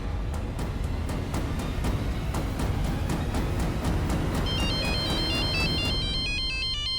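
A mobile phone rings with a repeating electronic ringtone, steady beeping pulses that turn into a brighter melodic tune toward the end, close and clear with no talk.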